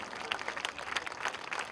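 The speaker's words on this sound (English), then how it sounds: "Ladies and gentlemen, we cannot stop the applause" Audience applause at an Kala Ghoda Art Festival ceremony: steady, faint clapping from a crowd, dense and unbroken across the short moment.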